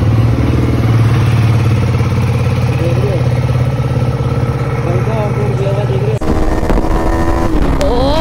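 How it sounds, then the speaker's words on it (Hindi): A Kawasaki ZX-10R sport motorcycle doing a cold start on a chilly day, its engine running loud and close in a steady idle drone that shifts abruptly partway through, with talking over it. "सो गाइस बाइक को करते हैं कोल्ड स्टार्ट।"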